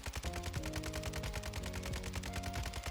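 Kastov 7.62 rifle fired in Warzone 2: a loud, steady stream of rapid automatic shots for about three seconds, with sustained tonal game sounds underneath.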